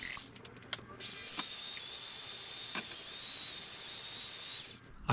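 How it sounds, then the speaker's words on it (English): A drill bit bores into the wood of a sunroom table, giving a steady, loud high-pitched whine with a hissing edge that runs unbroken for several seconds after a few short starts, then stops. "this drill bit is working better than the previous one in so much as the chips are augering out"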